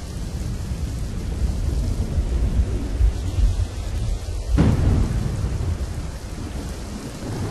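Heavy rain pours steadily over hilly Uttarakhand country while low thunder rolls beneath it, with a sharper, louder crack of thunder breaking in partway through and the downpour continuing after.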